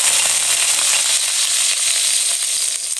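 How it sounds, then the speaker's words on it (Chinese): Scallions crackle and sizzle in hot oil, a steady bright hiss running the whole time with a few faint stirring clicks underneath, close and fairly loud. "油热葱爆香"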